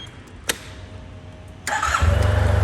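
A grey 2018 Yamaha TMAX SX 530 scooter starts up: a click and brief starter whir, then the engine catches and settles into a steady, loud, close idle with no talking.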